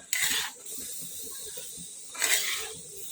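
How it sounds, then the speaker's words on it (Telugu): A raw banana and coconut curry is stirred in a pan, giving two short bursts of scraping and rustling near the start and again toward the end, with a soft continuous sizzle underneath. "మొత్తం అంతా ఒకసారి కలపాలి"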